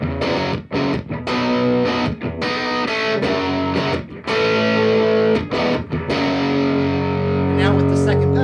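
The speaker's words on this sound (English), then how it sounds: "like a crunchy overdriven tone to more of a lead tone" An electric guitar plays a rhythm part through an overdrive pedal, producing crunchy, driven chords in a loud, continuous strummed pattern with brief gaps between chord changes.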